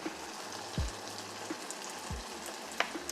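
Shrimp paste and sambal frying in oil in a wok, a faint crackling sizzle with a couple of low thumps and a light clink, no talking.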